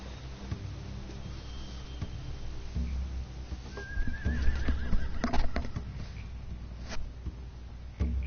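Horses whinny and snort amid ambient game sounds in The Walking Dead: The Final Season, with a shrill neigh midway and a few hoof thuds, moderately close.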